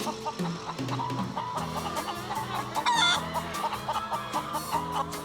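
Chickens cluck steadily close by in an open chook shed on wheels, a busy mix of overlapping clucks from several birds with one brief louder squawk in the middle.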